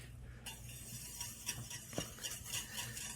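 A small whisk ticks and clinks against a bowl as heavy whipping cream is beaten, with quiet, irregular strokes close by.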